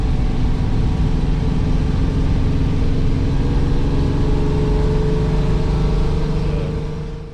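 Ferrari 330 engine running steadily during a drive, a continuous loud mid-pitched drone with road and wind noise, holding even throughout before easing off near the end.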